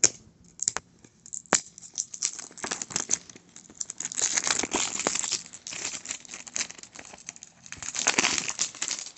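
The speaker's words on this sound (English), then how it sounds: "Got some cellophane seal on there, plastic seal." Cellophane plastic seal being peeled and torn off a BLU 2.0 vape kit box: close, dry crinkling and crackling in uneven bursts, with a few sharp snaps, and no talking.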